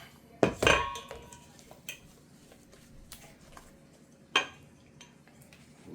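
A mixing bowl for chocolate chip cookie dough is set down and handled with a loud clattering clank, followed by quieter scattered taps and a second sharp knock a few seconds later.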